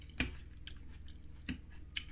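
Close-up crunchy chewing, with a few sharp crisp bites spaced about a second apart and quieter chewing in between.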